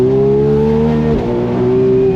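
A Ferrari 12Cilindri Spider's 830 hp V12 revs hard toward 9,500 RPM, a loud, close, steady high-pitched howl that dips briefly mid-way before climbing again, with no talking.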